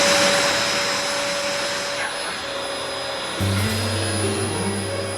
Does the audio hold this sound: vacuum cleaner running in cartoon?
yes